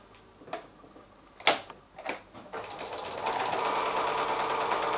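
A sewing machine stitches quilt squares cut from five-inch squares with a quarter-inch seam, a few clicks and thumps first, then a steady, continuous whirring run close by with no talking.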